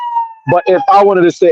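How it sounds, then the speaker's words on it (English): A police siren wails steadily somewhere in the background, fairly faint and distant, then continues beneath someone talking in the foreground. "pardon that siren back there, police for whatever reason"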